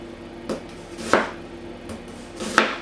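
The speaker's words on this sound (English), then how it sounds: "Slice it first and then chop the slices." A knife chops onion on a cutting board for coleslaw: four separate thuds come at uneven intervals over a quiet background, close and fairly soft.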